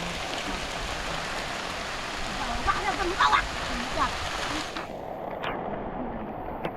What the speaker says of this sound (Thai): ฝนตกยังมาท่านเสา